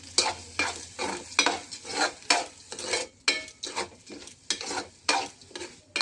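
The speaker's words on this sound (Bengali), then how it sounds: "আমার খিচুড়ির চালটা ভাজতে মনে নেই, ভাজে দিয়ে নিই" Uncooked rice for khichuri, with a little mung dal, is stirred and fried in a pan, giving repeated scraping, rustling strokes with a light sizzle in a steady rhythm, close and clear with no talk.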